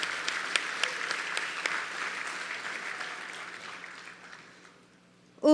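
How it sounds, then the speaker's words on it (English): An audience applauds at an evening birthday concert program during the Maha Rudra Yaga, with a burst of many hands clapping that slowly thins and fades over several seconds before a voice cuts in at the end. "A round of applause for Parama Puja Shri Swami-ji."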